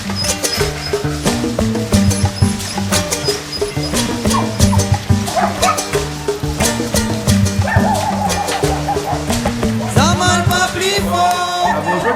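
Dogs bark and yip repeatedly in quick, loud bursts close by, mixed with whimpers and busy background noise throughout.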